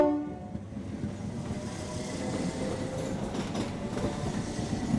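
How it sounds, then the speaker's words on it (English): A train pulls out of a station, its wheels clicking steadily over the rails with a low rumble and a brief horn toot near the start, heard at moderate distance. "The train left the station."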